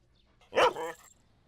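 A single dog bark, sharp and fairly close with a brief trailing yelp, rings out in a quiet Tamil film scene.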